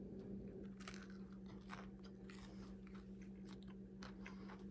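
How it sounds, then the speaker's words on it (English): Someone bites into hot cast iron cornbread, giving several quiet, sharp crunches in quick succession over a low steady hum, with no talking. "Hear that crunch?"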